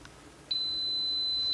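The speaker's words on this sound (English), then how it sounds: "And there it has beeped, it's down to 0." Instant Pot pressure cooker giving a single sustained electronic beep, clear and steady for about a second in a quiet kitchen.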